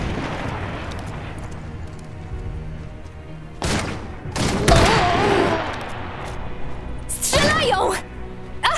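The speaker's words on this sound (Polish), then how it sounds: "Strzelają!" Gunfire in the Iron Harvest strategy game breaks out in loud bursts of shots and booms, with several volleys separated by quieter stretches under excited voices.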